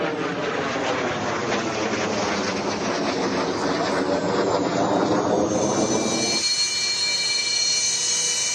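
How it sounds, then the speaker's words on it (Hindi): Military aircraft, a Hercules transport plane and a Sukhoi fighter jet, land on a national highway in Jalore, Rajasthan; a loud, steady engine roar sustains throughout, shifting to a higher whining jet tone toward the end. "राजस्थान के जालौर में नेशनल हाईवे पर हरकुलिस प्लेन उतरा तो फाइटर जेट सुखाई ने टचडाउन किया।"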